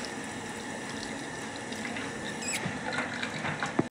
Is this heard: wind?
no